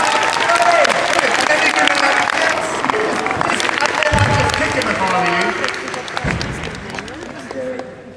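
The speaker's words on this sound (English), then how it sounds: "Give him a big round of applause" Audience applause at a Doctor Who celebration event at ExCel London, loud sustained clapping mixed with cheering and chattering voices, tapering off toward the end as talk emerges.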